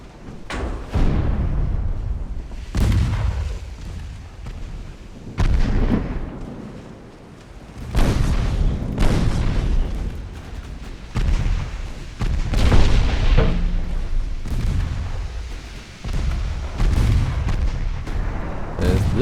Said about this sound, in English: There we go, more torpedoes going out.